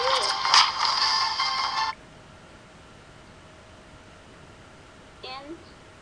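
A video ringtone previewing on a Samsung Galaxy S2 phone: a bright melodic tone plays for about two seconds and cuts off into near silence, followed by a brief faint chirp.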